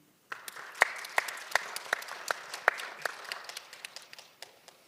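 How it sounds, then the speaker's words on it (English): Audience applause for a panelist at a judicial policy international conference, starting after a brief silence as sparse, distinct claps from a modest crowd that build into a steady patter and then thin out. "Please give a big applause to Ms"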